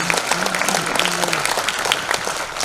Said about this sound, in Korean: 뜨거운 환호와 박수 부탁드립니다